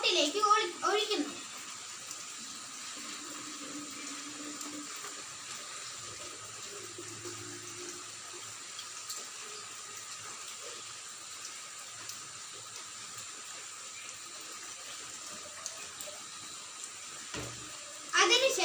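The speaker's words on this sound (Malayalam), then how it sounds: "ആദ്യം തന്നെ നമ്മൾ വെള്ളം ബോട്ടിലേക്ക് ഒഴിക്കുന്നു" Water poured steadily into a plastic bottle for a simple home science experiment, a continuous soft splashing hiss running for most of the time, with a voice speaking briefly at the start and end.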